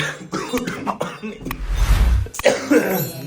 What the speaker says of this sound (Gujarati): ઉધરસ હજુ મને મટતી નહીં